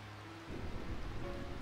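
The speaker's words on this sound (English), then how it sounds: "The rain is so pleasant." Rain in the video game Final Fantasy IX, a broadband hiss that swells after a quieter opening into a steady, moderately loud downpour with no talking.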